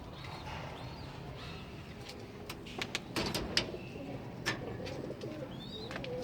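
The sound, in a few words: pigeons cooing on a rooftop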